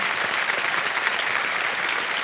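A studio audience on the KBC game show claps steadily and densely, a continuous close wash of applause with no voices over it.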